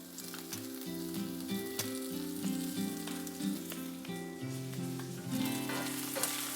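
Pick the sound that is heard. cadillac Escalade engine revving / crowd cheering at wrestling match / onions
onions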